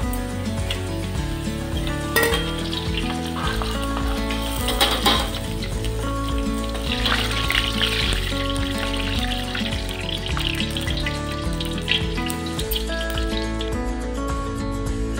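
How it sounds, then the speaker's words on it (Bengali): Cashews and raisins fry lightly in a pan for sago payesh, a steady close sizzle running throughout with occasional sharp stirring clinks, under a constant layer of background music. "সাবুর পায়েস রান্নার জন্য কাজু কিশমিশ ভেজে নিব। একটু হালকা করে ভেজে নিব।"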